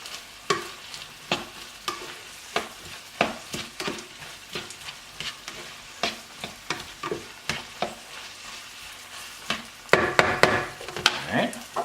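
Onions sizzling and caramelizing in a pan, stirred with a wooden spoon in a steady run of repeated scraping knocks over a constant frying hiss, close and fairly loud, a voice briefly murmuring.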